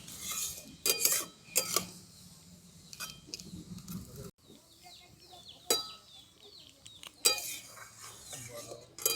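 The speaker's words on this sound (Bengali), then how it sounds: "তো এটাকে আমি খুব বেশিক্ষণ নয়, মিনিট 5 মতো আমি নাড়াচাড়া করে নেব।" Grated papaya being stirred in a pan for lachha semai, giving scattered scraping and clinking of a utensil against metal in uneven bursts, with faint background sounds.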